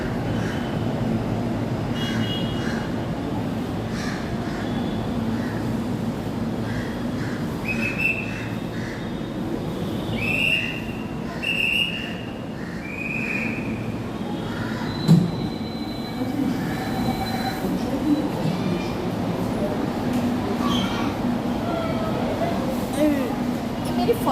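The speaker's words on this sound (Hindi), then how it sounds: "ये अहमदाबाद मेट्रो है।" Ahmedabad metro train ride on a short three-car train between APMC market and Motera, with a steady rumbling interior drone, intermittent squealing wheel tones and occasional clunks, heard from inside the car alongside faint background sounds.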